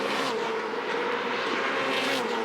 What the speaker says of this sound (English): Listen to that exhaust header on Nick Percat's car.